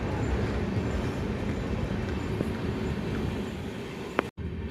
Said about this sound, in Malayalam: ഷാലിമാറിൽ നിന്ന് തിരുവനന്തപുരത്തേക്ക് പോകുന്ന ട്രെയിന് അതും പോയി